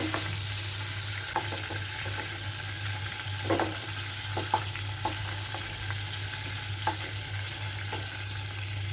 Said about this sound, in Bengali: এই পাশে ভাজা হয়ে গেলে নামিয়ে নেব।